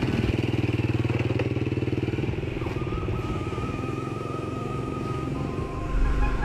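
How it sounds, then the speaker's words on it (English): Several men riding off on motor scooters in rural Indonesia, the engines revving and buzzing close by with a clattering idle that shifts as they pull away, steady and loud. "The men set off on scooters to seek their fortune."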